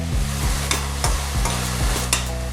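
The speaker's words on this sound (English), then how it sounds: "Stir this for about 5 minutes till the tomatoes soften." Diced tomato sizzles as it fries in a pan while a spoon stirs it in repeated scraping strokes about every half second, close and steady, with no talking.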